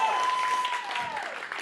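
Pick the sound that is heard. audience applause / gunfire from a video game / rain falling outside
audience applause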